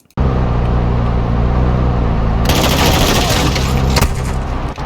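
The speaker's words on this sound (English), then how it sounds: "I'm taking fire!" Dense gunfire fills a match of the video game Warzone 2.0 DMZ, starting abruptly and staying loud throughout as rapid automatic bursts and booming shots pile up close by, with a brief in-game voice mixed in.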